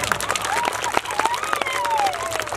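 A crowd applauding to welcome a guest onto the stage at a Bhagat Singh birthday event held by a youth club, dense clapping with a sliding tone over it and some voices mixed in.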